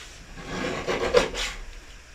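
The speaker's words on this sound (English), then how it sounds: "So I'm just cutting some different size strips." A craft trimmer slices through a strip of craft material, producing a short, soft rasping slide that swells and fades over about a second at close range, with no talking.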